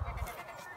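A Nubian buck goat gives a short, faint bleat over low rumbling background noise, lasting under a second.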